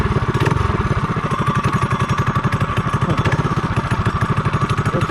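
The engine of a Torque Bug car running loud and close, with a lumpy, rapidly pulsing idle beat that holds steady throughout with no talking.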